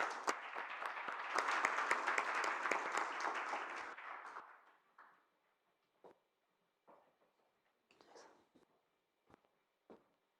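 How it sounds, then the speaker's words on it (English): Conference audience applause for a keynote speaker at a pilot launch event. A full, loud burst of many hands clapping lasts about four seconds, then dies away into a few scattered late claps and small noises amid quiet. "please, a big round of applause for Dr."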